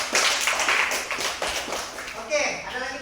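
A classroom of students claps for a classmate, a short burst of applause that fades out as a voice starts speaking.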